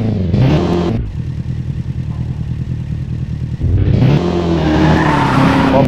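Four-cylinder Suzuki Bandit 650 motorcycle engine in a PC riding video game, a loud, close idle with a steady buzzing rhythm, opened by a short rev and ending in a sustained rising rev.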